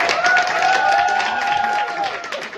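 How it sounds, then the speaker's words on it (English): An audience gives a short, steady round of clapping after a coaching demonstration, dense and continuous for a couple of seconds, with a tonal voice or music running over the applause. "Give her a round of applause."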